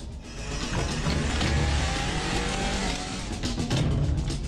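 A car moves off and drives with a loud, continuous engine roar and rumbling road noise, close by and steady throughout, with a hint of tire noise.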